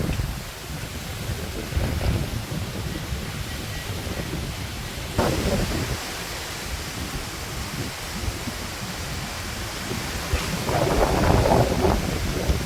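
Strong storm wind roars around a home, a steady, heavy rushing noise with gusts that surge louder toward the end, close and continuous.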